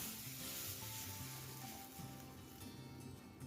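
Steady sizzling in a hot pan with soft scraping of a spoon stirring crushed pepper and cumin, continuous and close, no voices.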